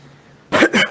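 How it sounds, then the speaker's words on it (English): Two quick, sharp coughs close to the microphone after a moment of quiet room tone. "Had to cough."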